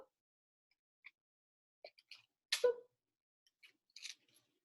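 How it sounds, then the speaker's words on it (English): Yellow paper pieces torn apart by hand for a craft, giving a few short, soft rips and crinkles scattered across a quiet room with no talking. "I use both hands and I pull, and then I rip my pieces."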